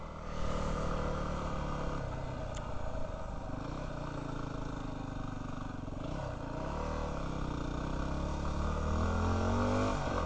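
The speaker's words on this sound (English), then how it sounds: "I have to rev her up to the rev limiter." A BigDog motorcycle engine revs hard and continuously, close and loud, as it climbs a steep grade on snowy, icy ground and is pushed toward the rev limiter, with the pitch rising and falling.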